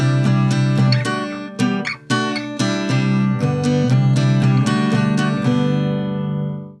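Strummed guitar bar from the intro of a song, a run of bright chord strokes with brief gaps filled by muted ghost-note hits, played alone, near and steady for several seconds before ringing out.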